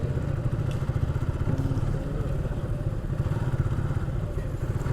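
A motorcycle on night patrol runs steadily and loudly nearby, with a continuous low rumble and rattle throughout.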